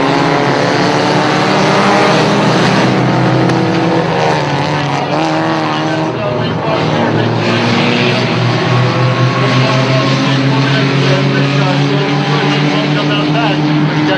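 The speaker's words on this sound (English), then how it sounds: "Pace car is in the infield, and we're about ready to go green once again, Johnny." A pack of race cars roars off at a green-flag restart in a feature race, dense layered engine drone rising and shifting for many seconds, loud and continuous, with commentary voices over it.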